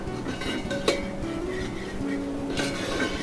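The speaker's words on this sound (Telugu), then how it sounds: "సో మష్రూమ్ కూడా వేసేసాం, దాన్ని కూడా చక్కగా మిక్స్ చేసేస్తాం" A spoon stirs halved mushrooms in a cooking pan, giving a few light metallic clinks and scrapes against the pan over a steady low kitchen background, with no speech.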